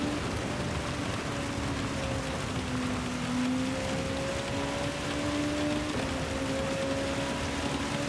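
Steady rain hisses throughout a Gran Turismo 7 race, a continuous wash of noise under the droning whine of car engines, with no talk.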